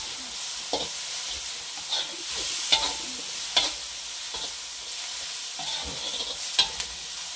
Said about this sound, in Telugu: అల్లం మంచిగా వేగింది ఫ్రెండ్స్